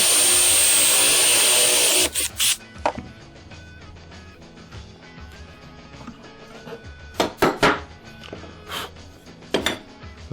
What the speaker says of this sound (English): continue until you've bored the dowel holes for all of your marks